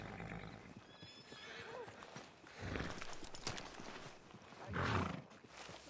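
Horse neighing and whinnying in Red Dead Redemption 2, with a brief whinny near the start and a louder neigh toward the end, over clip-clopping hooves and rustling game ambience.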